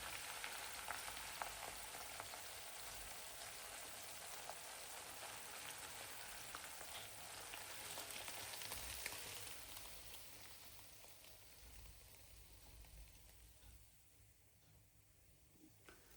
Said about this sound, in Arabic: نجيب هاي البصلة ونعمل لها هيك الطشة